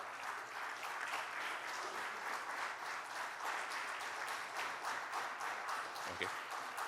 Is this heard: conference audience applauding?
yes